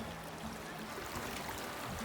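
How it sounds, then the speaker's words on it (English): Water of a shallow river, like a country creek, flows steadily in a broad, soft rush, close and continuous with no talk over it. "We're in the middle of a river."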